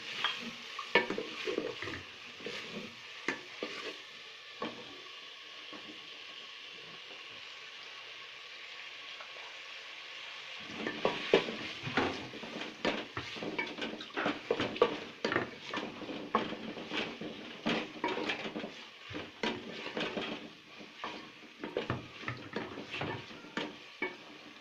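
Chopped tomatoes sizzle and fry in a pan while a spoon repeatedly scrapes and clatters against the metal, the stirring getting busier and louder partway through, with no voices.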